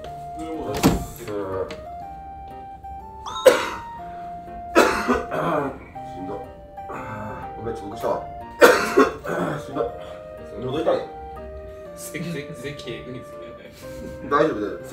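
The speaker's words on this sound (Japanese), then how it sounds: "咳してるだけやから" A man with a feverish cold coughs and clears his throat repeatedly in uneven bursts, close and loud, with talking between the coughs.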